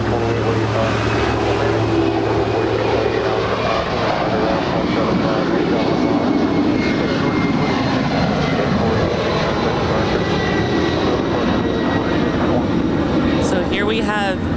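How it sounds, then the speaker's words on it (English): A DHL Boeing 767-300ER operated by ABX Air, about twenty years old, departing LAX as Flight 480 for Cincinnati, its jet engines a loud, continuous broadband roar filling the whole stretch, with a voice talking over it. "So here we have DHL operated by ABX Air. Flight 480 off to Cincinnati. It's a 20-year-old 767-300ER."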